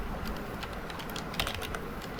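Rapid typing on a computer keyboard while writing Python code, with steady close clicking keystrokes throughout and no voice.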